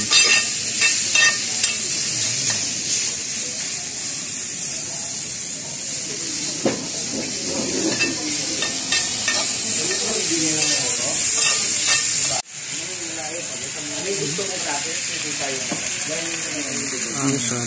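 Garlic pepper beef sizzles loudly on a hot grill at a Mexican and seafood restaurant, a steady frying hiss with scraping and stirring clatter throughout, while people talk nearby.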